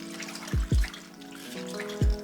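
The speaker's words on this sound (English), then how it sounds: "I'm just gonna fill this up with some cold water and give it a little tumble." Cold water poured over wild garlic leaves in a bowl, giving a few hollow bubbling plunks and gurgles against a steady running-water hiss, close up, with no talking.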